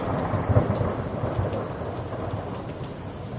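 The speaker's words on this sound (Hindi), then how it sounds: "देखते ही देखते आसमान काला हो गया और तेज बारिश शुरू हो गई" A cartoon thunderstorm with heavy rain brings a dense, steady downpour hiss and a low rumble of thunder swelling early on, loud and continuous with no voices.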